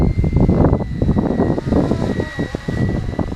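A BO105 helicopter flies in heavy wind, giving a loud, close, continuous rotor and engine roar with gusty buffeting and a faint high whine on top.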